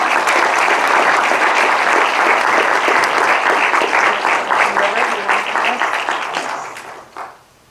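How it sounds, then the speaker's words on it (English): Applause from an audience at a historic preservation award ceremony for the Poughkeepsie Underwear Factory project, loud sustained clapping that gradually thins and fades out near the end. "So let's give them a round of applause."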